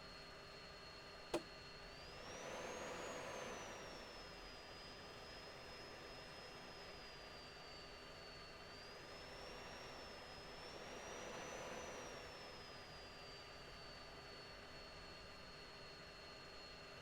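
Military jet aircraft taxi on the ground during an exercise flight, a continuous distant whining engine drone with a high tone that rises and falls, plus a brief sharp click near the start.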